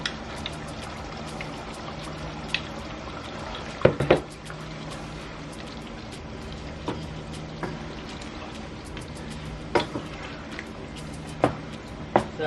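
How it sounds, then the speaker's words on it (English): Brown stew chicken simmering on low heat in a pot gives a steady soft bubbling and liquid gurgle throughout, with occasional small pops and clinks close by. "so I'm going to let it simmer for about another 20 minutes"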